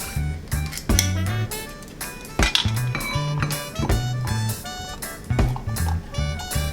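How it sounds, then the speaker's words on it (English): A utensil clinks and taps against a bowl while a vinegar-based sauce with a spicy canned ingredient is mixed, sharp intermittent pings over background music. "So we're just going to put all of these together and mix them up."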